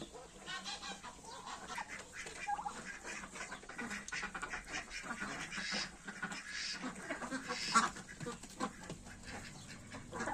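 Ducks, including runner and Rouen ducks, quack in a farmyard with other poultry nearby, a faint, busy chorus of overlapping calls and rustling with no clear pauses.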